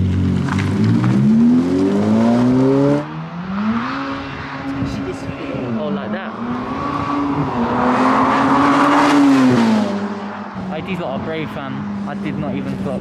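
Ferrari F8 engine revving and accelerating hard, a loud rising and falling tonal roar that sweeps up through gears, close by, with people talking over it.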